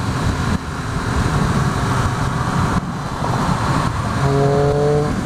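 A 2013 Triumph Street Triple R motorcycle roars loudly and continuously close by, with brief dips in the engine note as gears shift, under strong wind rush.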